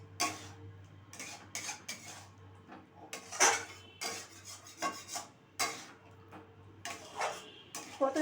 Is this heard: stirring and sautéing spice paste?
yes